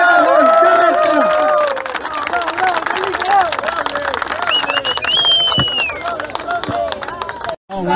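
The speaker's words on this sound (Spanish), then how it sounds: "Un aplauso grande a Carlitos Palacios." A loud crowd at a farewell gathering in Renca for Carlitos Palacio applauds, cheers and whistles continuously, with dense clapping under shouting voices and babble.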